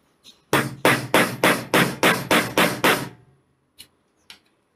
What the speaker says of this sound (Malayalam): ഇവിടെ ഈ മാർക്ക് ചെയ്തിരിക്കുന്നിടത്ത് ഒരു ഹോൾ ഇട്ടിട്ട് റിവിറ്റ് അടിച്ചു കൊടുക്കാം.